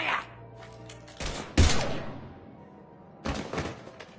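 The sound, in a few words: gunfire in video game Mass Effect 3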